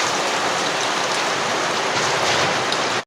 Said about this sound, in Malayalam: നേരത്തെ ഉണ്ടാക്കി വെച്ച പുളിയുടെ വെള്ളമുണ്ട്, അത് നമ്മൾ ഇതിലേക്ക് ഒഴിച്ചു കൊടുക്കണം